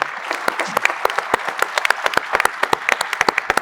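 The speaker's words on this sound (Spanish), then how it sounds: "concluir con un fuerte aplauso a los organizadores y aquí a los panelistas por la participación" Applause from the audience for organizers and panelists closing a panel on transport challenges at an international transport congress: scattered, fairly close hand claps of uneven rhythm that keep going without pause.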